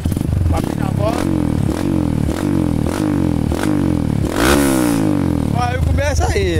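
A motorcycle rides a forest dirt trail, its engine loud and close with repeated revving surges, clattering and scraping over rough ground, while people shout over it.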